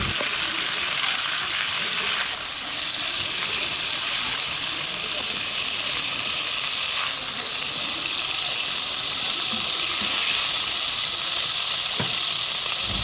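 Chicken pieces lightly frying in hot oil for a chicken roast, a continuous bright sizzle and crackle from close by, steady and even for the whole stretch with faint stirring.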